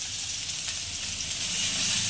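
Bay leaves and dried chillies sizzle in hot oil in a pan, a steady close crackling fry with no talk.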